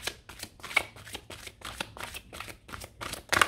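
Tarot cards being shuffled by hand during a full-moon reading: quick, soft riffling and slapping strokes, repeated in a steady rhythm, close and quiet.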